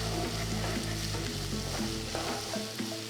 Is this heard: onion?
yes